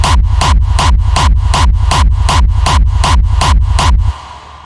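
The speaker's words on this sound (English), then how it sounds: "let's hear how the kick sounds with the punch and the tail together" A gated electronic kick drum with punch and a sustained tail repeats in a fast steady pulse, each hit loud and booming with a sharp attack, about a dozen beats before cutting off abruptly.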